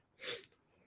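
A single sharp human sneeze indoors, a brief bright burst of breath followed by a faint exhale, fairly quiet and alone with no talking.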